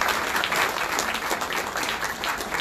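Inauguration audience of a conference in a hall breaking into a dense, steady round of applause welcoming a speaker to the stage, many hands clapping evenly throughout with no talk over it.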